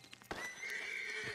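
A horse in Red Dead Redemption 2 Online struggling up a hill lets out a single long, high whinny after a few hoof clops, fairly faint but clear and alone.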